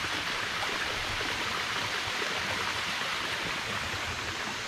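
Close and loud, the cascade of the Antharganga falls in a deep forest dam rushes in a constant, uniform torrent with no pauses or voices.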